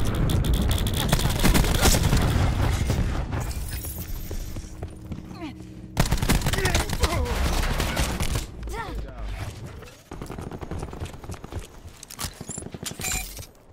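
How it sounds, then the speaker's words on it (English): Cluster grenade detonations in Call of Duty: Black Ops 4 burst in rapid crackling bursts over dense gunfire and game noise, with a sharp loud hit around the middle and continued chaotic battle sounds after. "Cluster grenade"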